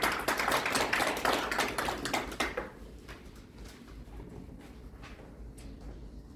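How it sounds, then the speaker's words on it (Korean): Seminar audience clapping in a press-center conference room, a dense burst of applause that thins out and fades after a couple of seconds, leaving quiet room tone. "여러분 크게 박수 보내주시기 바랍니다."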